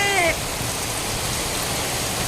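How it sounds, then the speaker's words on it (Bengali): Heavy rain pouring down in Jhargram, a dense steady hiss of rainfall filling the clip, with a brief voice at the very start. "দেখেছেন কি প্রচন্ড পরিমাণে বৃষ্টি হচ্ছে"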